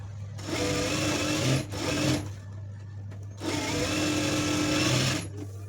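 Sewing machine stitching a blouse hem in two sustained, close whirring runs separated by a short pause, steady and mechanical with no talking.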